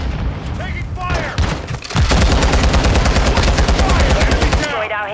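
Sustained automatic gunfire in Call of Duty: Modern Warfare II, a dense rapid rattle of shots that starts partway through and keeps going, loud and close, over a busy battle mix with voice callouts.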